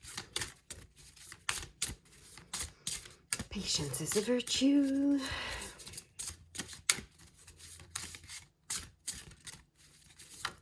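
Tarot cards being shuffled, a run of crisp close-up riffling and tapping clicks, broken midway by a voice.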